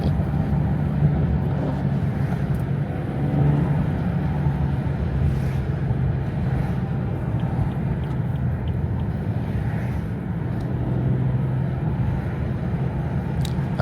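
A 400 hp BMW 340i taking a corner on snow, heard from inside as a steady low engine drone with road rumble and wind noise, unchanging and fairly loud throughout.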